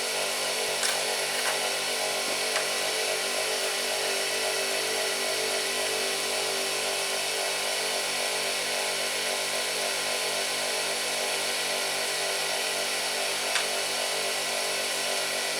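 A power tool roughly grinds and shapes a handmade guitar pick against a wooden shaft, giving a steady, loud, continuous whine that runs unbroken from start to finish with no voices.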